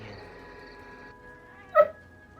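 A dog gives a single short whimper near the end, following a stretch of faint sustained tones and quiet background.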